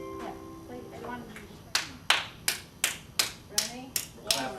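A run of eight sharp, evenly spaced hand claps rings out close and loud, following a few seconds of indistinct voices and a child nearby.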